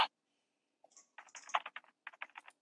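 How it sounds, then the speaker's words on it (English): Quick clusters of keyboard keystrokes in a 911-dispatcher video game tap out in short bursts after a sharp click, close and fairly quiet, with no voices. "I can hear a keyboard."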